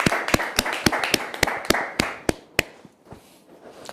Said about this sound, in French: tous ceux qui sont sur le plateau ont applaudi pour vous dire qu'on vous aime très fort